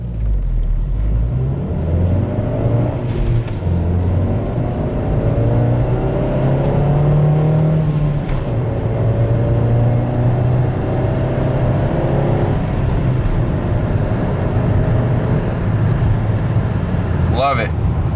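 A car engine accelerates after its engine mounts were replaced, a steady low rumble rising in pitch across the run, heard from inside the cabin with a brief high squeak near the end.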